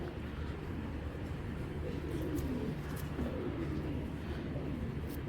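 A male almond silver Giribaz pigeon coos softly in low, rolling murmurs, repeated over a dense, steady background hum of other birds and room noise, close by but not loud.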